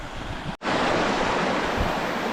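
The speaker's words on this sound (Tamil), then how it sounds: "இந்த தண்ணி அந்த ஃபால்ஸோட தண்ணி தான் இங்கே ஓடி வந்துக்கிட்டு இருக்குது" Water from the Thalaiyar waterfall near Kodaikanal, Tamil Nadu, rushes down a rocky stream in a loud, steady roar. The sound cuts out briefly near the start, and no voices are heard.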